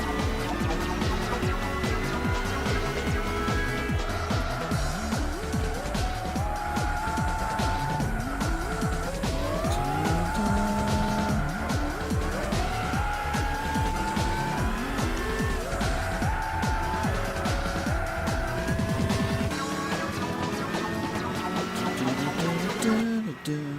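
A Lotus Elan racing in Gran Turismo 6, its engine note rising and falling steadily through gear changes over a long stretch, under background music.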